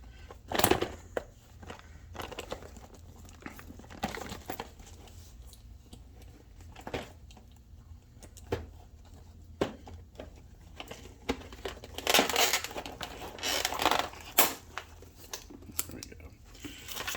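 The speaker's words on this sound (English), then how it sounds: "Let's set this down for a minute and kind of open this box up" Mystery gear subscription box being opened, with faint scattered crinkling, tearing and rustling of packaging and a few sharper handling knocks over quiet room sound.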